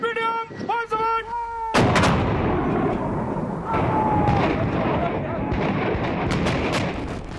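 Massed artillery fire from more than 100 guns booming together during the Kargil war assault on Tololing, India, in 1999: a sudden loud blast followed by sustained rumbling detonations, with faint tonal sounds and voices beforehand.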